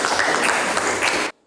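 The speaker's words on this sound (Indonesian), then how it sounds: "tepuk tangan dulu Tio" Applause in a biology classroom: a dense wash of clapping from a group of students, steady and close for just over a second before it cuts off abruptly into silence.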